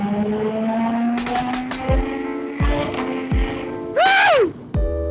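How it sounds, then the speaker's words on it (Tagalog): Supercharged Kawasaki ZH2 motorcycle accelerating hard, engine pitch climbing through several gears with sharp drops at each shift, loud and close, ending in a high rising whine. "Grabe itong motor na to. Supercharged siya mga kawanabis."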